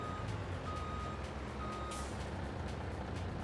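A truck backing a trailer in Farming Simulator 22 gives off evenly spaced reversing beeps over a steady engine drone, with a short hiss of air brakes partway through.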